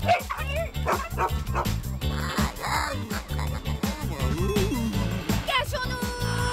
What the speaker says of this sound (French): Le chien invisible nous attaque!